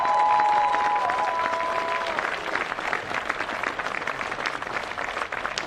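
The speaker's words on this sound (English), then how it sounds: "Please put your hands together for all three teams" A crowd at the final of a national under-18 women's tournament applauds the medal-winning teams with sustained, steady clapping, a thin tone sounding briefly at the start.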